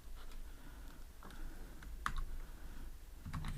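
Faint, irregular keystrokes and clicks from a computer keyboard while code is typed for an Android note app, scattered taps with short pauses between bursts, close and quiet, no voices.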